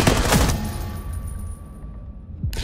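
A short automatic-weapon burst rings out in the mobile shooter Rainbow Six Mobile, loud rapid shots for about half a second, followed by a fading echo and faint rattling.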